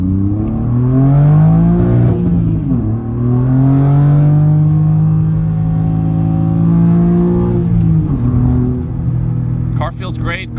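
A BMW G80 M3 with a Remus sport muffler exhaust in sport mode drones loudly and steadily, its pitch climbing under throttle, dipping briefly as revs fall, then rising again before a short crackle near the end.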